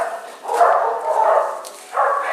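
Dogs at a rescue kennel barking in a few loud, sustained bursts, with a steady background din between them and no talk.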